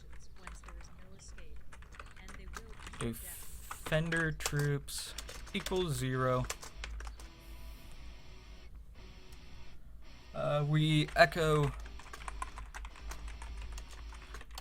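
Rapid clicking of a computer keyboard as PHP code for an attack simulator is typed, steady bursts of keystrokes close by, alternating with someone speaking quietly over them.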